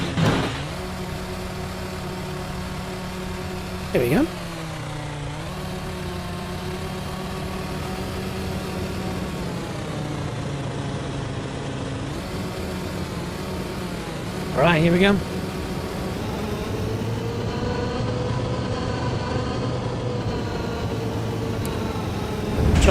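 A vehicle engine in the war game Foxhole drones steadily near and loud for the whole stretch, with a few short spikes as it revs, while someone talks over it.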